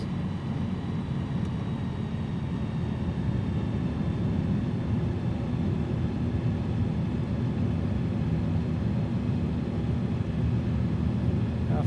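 A Rans S6S Coyote II light aircraft engine drones steadily in a flight simulator as the throttle comes down, a continuous low hum filling the whole stretch with no audible change in level.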